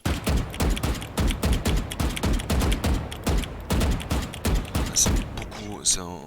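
Rapid weapon fire in the Valorant video game, with loud, evenly spaced shots in a fast continuous burst of about five seconds, then a couple of fainter mechanical clicks at the end.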